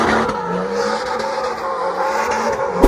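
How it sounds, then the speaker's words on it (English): BMW diesel engine fitted in a Toyota Hilux, revving hard and steadily up close, with a sharp burst near the end. "They rev like a petrol engine"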